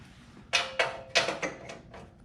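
A ratchet and socket working on a Cub Cadet RZT-54 zero turn mower, several quick clicking pulls in a row heard up close.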